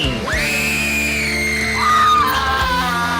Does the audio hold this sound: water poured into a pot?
no